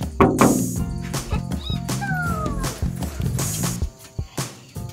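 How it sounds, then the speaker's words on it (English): An indoor cat meows from inside a house while people hang out in the backyard, giving a few close, wavering cries mixed with background clatter and other noises. "Yeah, we got the cat in here."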